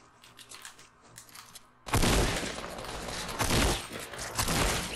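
A close-range Fortnite Battle Royale gunfight: after a quiet, faint opening, a loud dense fusillade of rapid shots erupts and keeps going in clattering bursts until the end.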